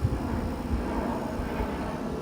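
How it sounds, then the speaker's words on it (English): A fixed-wing airplane passing directly overhead gives a steady, broad engine roar that stays even and moderately loud throughout, with no talking. "that's the airplane literally going directly over my head"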